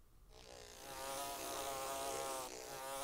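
A bee buzzes steadily as it flies around a room. The drone is continuous and fairly close, swelling and dipping slightly over about three seconds, with no talking over it.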